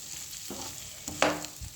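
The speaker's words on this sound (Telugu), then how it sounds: "చూసారండి మామిడికాయ ముక్కలు వేసా" Raw mango pieces go into a frying curry in a pan, a low continuous sizzle broken by a short bright splash and crackle, with a soft knock at the close.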